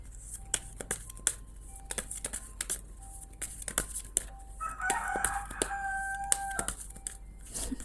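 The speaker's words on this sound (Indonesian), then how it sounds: "Setia banget ayam mamaku itu teriak-teriak ya, jadi back sound." Rooster crowing outside a home, a long drawn-out cock-a-doodle-doo from a moderate distance, heard over close clicks and soft card shuffling indoors.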